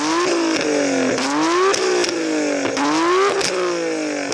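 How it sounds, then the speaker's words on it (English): A Nissan GT-R R32 fitted with an aftermarket titanium exhaust is revved repeatedly while stationary. Several sharp throttle blips rise and fall in quick succession, loud and close, with no talking. "I'm going to rev up this beautiful R32. Should point out it's got an aftermarket titanium exhaust"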